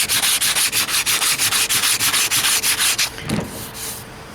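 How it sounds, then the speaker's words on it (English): Loud, close block sanding of primer on a 1968 AMX car panel, with rapid, steady back-and-forth strokes for about three seconds, then it stops and a soft thump follows. "I'm sanding on that."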